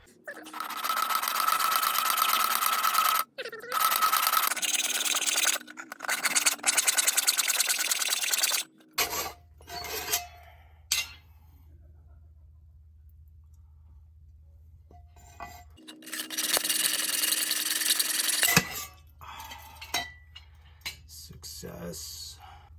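A saw cuts through a 3.5-inch intake pipe for a K20 engine, a loud, steady buzzing cut in several long bursts broken by short pauses, with a low hum and clinking in between and no talk.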